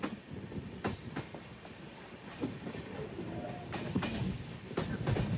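A passenger train, an express on India's Konkan Railway in monsoon season, rolls along with rhythmic clickety-clack of wheels over rail joints, a steady rumble underneath, fairly close and loud.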